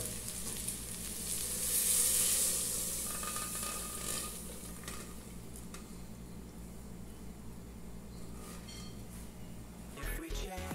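Ingredients frying in a pot for chica doida, a hot Brazilian corn soup, with a dense, continuous sizzle and crackle, louder early on, and a few clunks near the end, close and with no talk.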